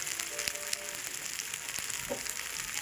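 Fish shallow-fries in oil on a tawa, a soft, steady sizzling hiss with faint crackles, fairly quiet and uninterrupted, no talking.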